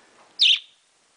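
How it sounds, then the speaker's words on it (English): A single short, bright chirp from a pet bird, close and fairly loud against near silence. "we know you know how to chirp. That's bird language."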